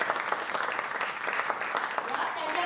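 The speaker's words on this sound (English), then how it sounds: "So yeah, a big round of applause for them." Audience applause at an open mic stand-up and storytelling event, a dense continuous patter of many hands clapping at moderate distance, steady for the whole stretch with some crowd voices mixed in.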